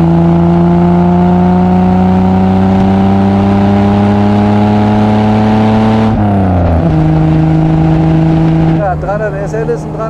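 A 1954 Mercedes 300 SL Gullwing engine pulls loud and steady through the gears, its tone holding then dropping as the driver shifts around six seconds, with the note changing again near the end.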